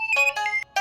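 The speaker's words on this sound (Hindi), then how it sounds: "फोन आया, देखना।" A phone ringtone plays alone at close range, a bright, electronic melodic trill sounding in a few quick bursts with a short gap near the end.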